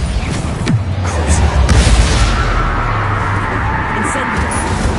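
A Bombarda spell blast in the video game Hogwarts Legacy: a loud, heavy boom that swells into a sustained, rumbling roar, dense and close, filling the whole stretch.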